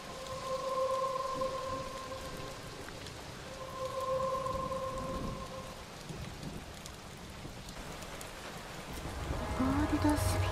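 Thunderstorm rain in the Touhou Genso Wanderers video game: a steady hiss of falling rain with a low rumble, joined by faint sustained chiming tones early on and a louder swell near the end.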